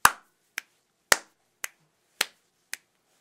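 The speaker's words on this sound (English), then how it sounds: "In fact, you can even make a pattern, like clap, snap," A clap-snap pattern made with the hands, six sharp, isolated cracks evenly spaced about half a second apart, heavier claps alternating with lighter finger snaps in a quiet room.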